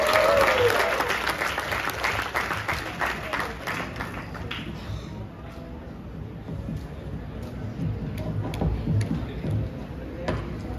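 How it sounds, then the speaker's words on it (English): An audience at a talk on AI applauds a speaker. The dense clapping starts loud, then thins and fades to scattered claps and murmurs by the end. "Give her a round of applause."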